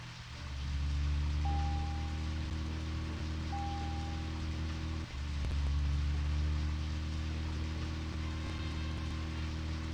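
Rain falling in the video game Deadly Premonition, a steady dense hiss of downpour with a low rumbling hum beneath and a couple of faint tonal blips, continuous throughout with no talk.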